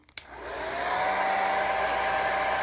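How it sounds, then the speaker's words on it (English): After a brief click, a hair dryer on its cool setting switches on and blows steadily, a constant close whooshing hum with a faint motor whine. "I'm also going to dry my screen here with a hairdryer"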